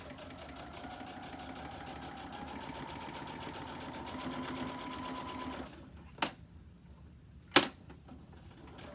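A sewing machine stitches in the ditch on a mini quilt, running in a steady continuous whir for about six seconds before stopping, followed by two sharp clicks in the quiet.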